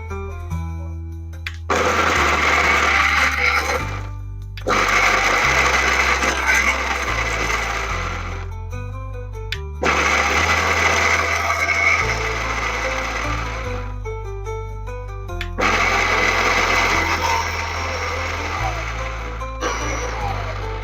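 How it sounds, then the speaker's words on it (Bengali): Electric grinder pulverising dried orange peels into powder, loud whining bursts of several seconds each separated by short pauses, repeated four times, with voices talking in the gaps. "এখন আমি এগুলোকে ভালোভাবে ফেসে নেব।"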